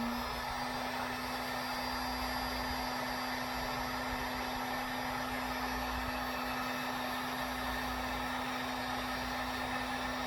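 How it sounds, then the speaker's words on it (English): A heat gun blows steadily on low while warming powder coating on lead, a constant close airy roar with a fixed motor hum, unchanging and alone throughout. "I've got my heat gun set on low"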